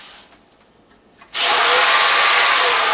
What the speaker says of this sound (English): Now what I done with the cores here, I went ahead and I drilled some holes.